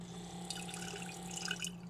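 Water trickling and dripping into a glass sauce jar, a faint, steady pour with light splashy droplets throughout.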